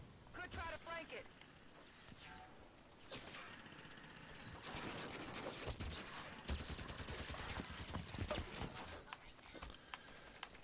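Turret gunfire in Halo 5: Guardians pours out in dense, continuous bursts of shots alongside other battle noise, while a voice talks over parts of the fight.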